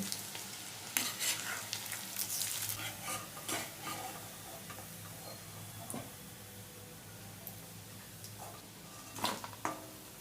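Chowmein pakoras fry in oil with a faint, steady sizzle, punctuated by occasional clinks and scrapes as they are turned, close but low in level.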